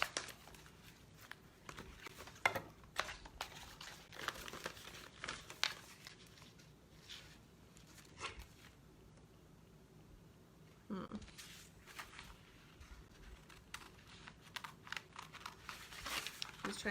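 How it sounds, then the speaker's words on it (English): Scissors cutting out a paper flower transfer for an upcycled kitchen cabinet door, soft close snips and papery crinkles scattered irregularly throughout, quiet and intimate. "So I'm just going to cut it out."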